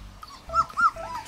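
Labrador retriever puppies give a couple of short, soft, high whimpers and squeaks in a quiet room, nearby and brief.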